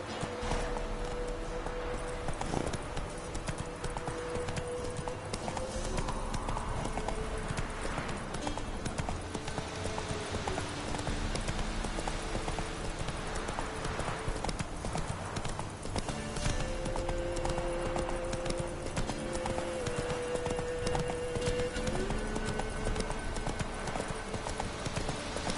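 Horse hooves clip-clop steadily through a Witcher 3 game scene, a continuous walking rhythm over ambient game music and background sound, with no talking.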